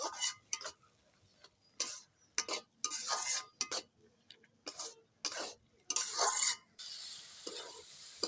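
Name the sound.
potatoes stir-fried with spices in a pan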